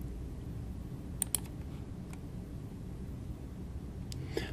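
A computer mouse clicks through a software configuration menu, giving a few faint, sharp, isolated clicks spread over several seconds above a steady low hiss. No one speaks.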